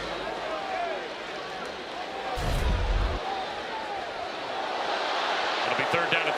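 A college football stadium crowd at Miami versus South Florida, a broad continuous roar and murmur of fans reacting to a play, swelling slightly toward the end, with a commentator talking over it.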